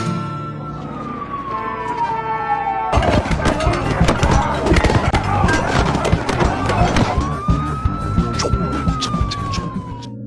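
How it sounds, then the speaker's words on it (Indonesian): Police siren played from a mobile phone amid a street brawl between drug dealers, a loud wailing tone that sweeps up and down over music and a busy, noisy mix. "Namun dengan ide brilian yang dimiliki Ma, ia pun kemudian membunyikan suara sirene polisi dari HP-nya."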